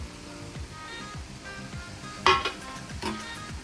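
Lobster and prawn masala with red chili powder, kokum, fresh coriander and green chili is stirred in a pan: scraping spoon strokes, soft sizzling and one sharp clink against the metal, with no talking.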